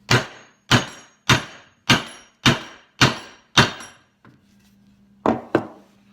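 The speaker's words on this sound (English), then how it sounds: "I'll straddle it between there and just kind of give it a good whack or two." A stitching pony part held in a bench vise takes seven loud, evenly spaced whacks with a ringing decay. A faint hum follows, then two more quick blows.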